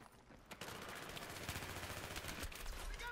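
Battlefield 3 gunfight: rapid bursts of automatic gunfire crackle continuously, with overlapping shots forming a dense rattle, heard faintly at low volume.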